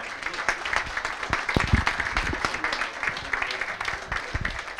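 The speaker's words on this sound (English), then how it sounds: "give yourselves a big round of applause" An audience at a W12 club quiz night applauds in a sustained burst of dense clapping that fills the room throughout, with a few voices mixed in beneath the claps.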